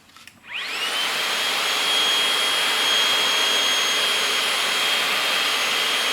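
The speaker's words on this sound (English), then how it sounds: "So now I use this Milwaukee M18 vacuum, and I just suck it up" A cordless Milwaukee M18 vacuum spins up and then drones in a steady, high whine while sucking up lawn debris after mowing, loud and close with no speech.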